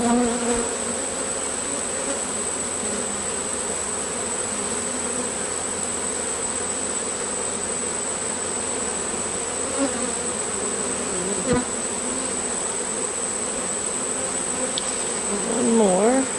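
Honey bees living in a roof area buzz steadily in a dense, continuous drone, close and moderately loud, with a few faint human sounds near the end.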